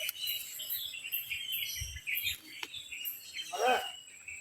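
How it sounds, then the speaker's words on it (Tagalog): A crow caws once, loud and harsh, against a busy background of chirping birds and outdoor noise. "Ayaw tumigil ng uwak mga idol."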